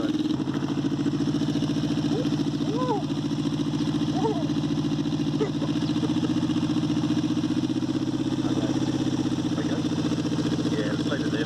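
A 1984 Suzuki GS250FWS motorcycle engine idles steadily with a low, even throb close by, and faint voices speak over it now and then.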